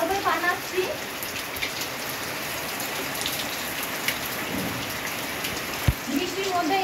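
Steady rain pours onto surfaces and parked vehicles outdoors, a dense, continuous hiss with scattered louder drops, and a voice speaks briefly at the start and end.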